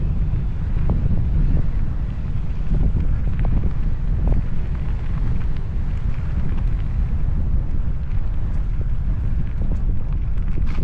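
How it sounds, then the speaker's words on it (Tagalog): Strong wind buffets the microphone in a continuous low rumble by a lake in North Dakota, steady and loud throughout with no voices. "windy."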